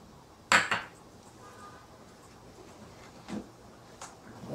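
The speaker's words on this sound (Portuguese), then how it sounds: "Agora é só tirar o potinho." A sharp metallic clink of a small pot knocking against a pan while making pudding, followed by a few fainter taps in a quiet room.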